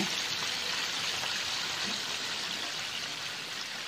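Steady, dense crackling sizzle of chicken frying in hot oil, continuous and fairly close, with no talking.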